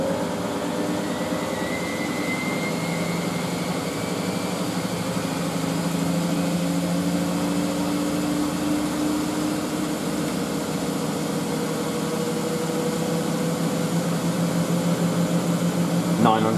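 Miele W562 Prestige Plus 6 washing machine spinning a load of bathrobes, a steady whirring drone with rising and falling motor whine, running continuously and getting slightly louder toward the end.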